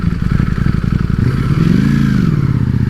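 A Ducati Streetfighter V4 S rumbles loudly and close, its engine note climbing and easing as it rides, with a steady throbbing pulse and light mechanical clatter.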